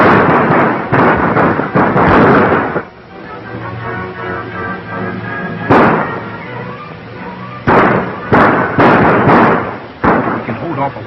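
Gunshots from a 1936 western film shootout crack out in sharp bursts, several rapid shots early and more later, loud and close, with a quieter stretch of talk and background noise between them.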